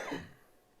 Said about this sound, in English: Sorry, cough there.